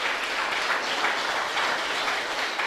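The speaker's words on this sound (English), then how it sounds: "Give Catherine Seelys a round of applause." A round of applause fills the room at a Castries City Council town hall meeting, a steady dense wash of many hands clapping that holds evenly for nearly three seconds with no voices on top.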